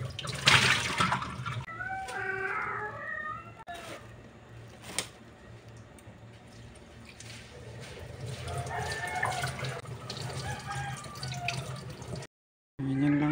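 Mulberry leaves rinsed and rubbed in water, close splashing and trickling with drips and handling noises, interrupted by brief voice-like sounds and a short silent gap near the end.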